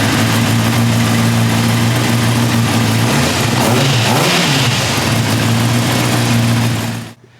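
A 2018 Honda CBR 600RR motorcycle engine idles steadily while warming up, with a low, throbbing rumble, briefly revving up once before cutting off abruptly near the end.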